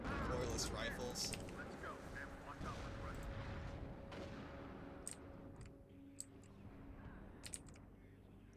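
Rumbling bomb explosions and scattered gunfire from a war video game, with dense booming at the start thinning to sharper isolated cracks later, all under a voice talking.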